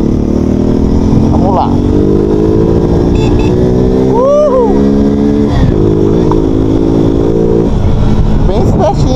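A new fuel-injected Shineray Rio 125 motorcycle accelerates hard through its gears on the road, its loud, close engine climbing in revs and dropping briefly at each shift, with a rider speaking briefly over it.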